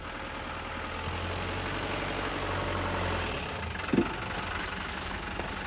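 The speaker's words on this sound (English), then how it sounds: "you can stop that engine and give me a hand with this lot" A car engine idles steadily at a low, even rumble throughout, with a brief louder knock or thump near the end, in a rural village setting.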